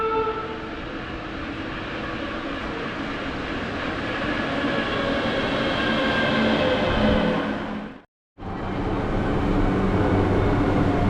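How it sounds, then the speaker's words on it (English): A Mexico City metro subway train rumbling and whining steadily as it slows, then a sudden drop to near silence followed by a return of the loud car noise as it comes to a jolting stop. "Unlike many subway trains around the world, this thing stops with a thump"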